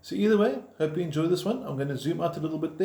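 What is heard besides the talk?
None of the usual background noises is heard.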